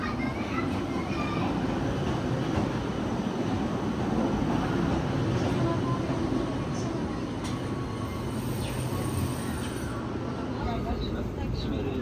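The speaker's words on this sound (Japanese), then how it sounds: "The train bound for Kamakura will arrive shortly." A train pulling into a station bound for Kamakura gives a continuous low rumble and rolling wheel noise at moderate distance, with faint squeals and platform ambience layered over it for the whole stretch.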